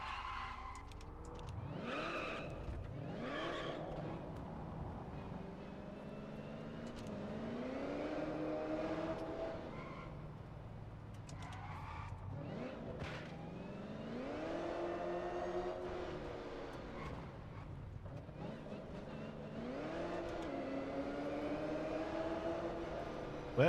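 A car in the racing game Test Drive Unlimited Solar Crown driven with a new wheel, engine revving up and down through the gears with tire squeal and gearbox chatter, fairly close and continuous, no speech.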